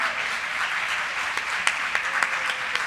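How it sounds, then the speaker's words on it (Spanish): Steady applause from an audience at a gastroenterology conference talk in the Dominican Republic, a dense wash of many hands clapping with a few sharper claps standing out near the end, continuous for about three seconds. "Creo que se merece un aplauso más fuerte que eso"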